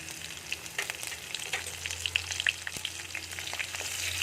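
Green chilies and peanuts sauté in hot oil for sabudana upma, giving a lively crackling fry with scattered pops, close and fairly quiet.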